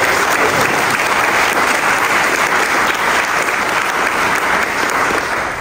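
Loud, dense applause from an audience at a national AANHPI business summit held at the Department of Commerce, a continuous roar of many hands clapping at close range with no speech.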